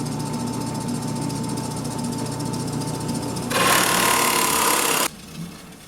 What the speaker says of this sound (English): I'm using a 2-inch Forstner bit